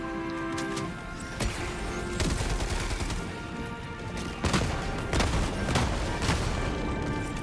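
Autocannon in Helldivers 2 firing on flak mode, heavy rapid bursts of shots with explosive cracks and booms, repeating in clusters over a dense battle din, loud and close throughout.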